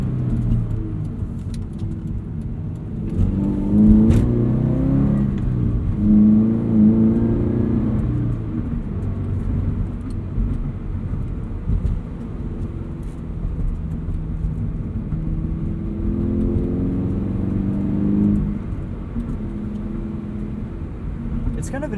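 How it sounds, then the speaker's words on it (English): Exhaust note of a Subaru BRZ heard from inside the cabin with the back seats folded down. A low rumble rises into a smoother tone as the revs climb through two acceleration pulls, with a voice talking over parts of it. "At the lower RPMs, you get kind of a Subaru rumble, and then as you get up into the higher revs, it kind of changes into tone"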